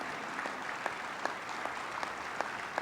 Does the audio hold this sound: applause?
yes